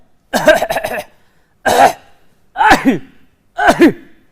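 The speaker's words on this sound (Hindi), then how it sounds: "देखा तुमने ये आदमी कैसे आपके ऊपर खांस रहा है?" A man coughs hard four times in separate harsh bursts, the first a rapid multi-hack fit and the rest single rough coughs spaced about a second apart, close and loud.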